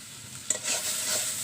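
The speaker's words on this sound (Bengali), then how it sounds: "যে মাছ ভেজেছিলাম সেই মাছ ভাজার তেল দিয়ে কিন্তু আমি কাঁচা কলাও ভেজে নিয়েছি, আর আলুও ভেজে নিচ্ছি।" Potatoes frying in leftover fish-frying oil in a pan, a short close sizzle that swells after a brief clink, steady hissing to the end.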